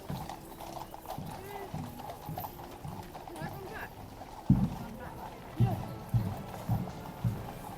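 Hooves of Horse Guards cavalry horses clip-clop in a steady walking rhythm through a crowded ceremonial street scene, with louder close hoof strikes later, under crowd chatter and distant band music.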